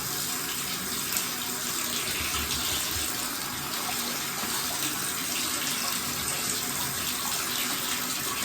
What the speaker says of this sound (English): And rinse the inside of your bottle out.